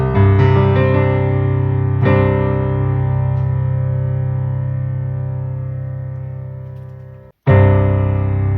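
A sustained piano chord from a song rings out and slowly decays, with a softer note entering partway, then the chord is struck again firmly near the end.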